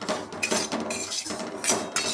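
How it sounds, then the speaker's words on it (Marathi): Semolina (rava) roasts in a pan for sanjori as a spoon stirs and scrapes against the metal, giving continuous close clatter with a few louder knocks. "रवा छान भाजून घेणार आहे आपण."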